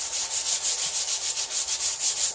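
An old painted wood piece is sanded with 220-grit sandpaper: rapid back-and-forth rasping strokes in an even rhythm, close and fairly loud, with no talking.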